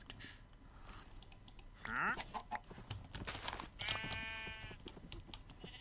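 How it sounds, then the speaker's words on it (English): A sheep bleats in a video game, giving two drawn-out wavering calls amid soft scattered clicks and taps. Everything is quiet and close. "Where is my pretty sheep?"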